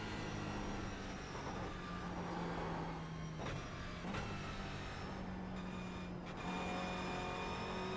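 A video-game car engine holds a steady droning pitch, then dips and rises again as it shifts up to fifth gear. A few sharp shift points break the drone, and no voices are heard.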